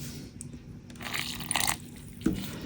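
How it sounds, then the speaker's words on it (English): Water trickles into Mix To Mold casting powder, which is stirred in a small container, giving soft close sloshing, wet scraping and a few squishy clicks, with a sharper stir near the end. "I'm just going to add water a little bit at a time and mix it"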